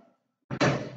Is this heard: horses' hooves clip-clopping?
no